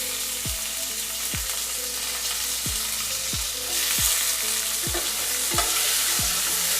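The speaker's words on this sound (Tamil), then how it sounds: "இந்த தக்காளி வெங்காயத்தெல்லாம் வந்து இந்தமாரி நல்லா எண்ணெயில் வதக்கிட்டு அரைச்சி ஊற்றினா தான் அந்த மீன் குழம்பு நல்லா டேஸ்ட்டாக இருக்குங்க" Tomatoes and onions sauté in oil for Chettinad fish curry, a bright steady sizzle punctuated by regular thudding stirs of a spoon against the pan, close and loud with no talking.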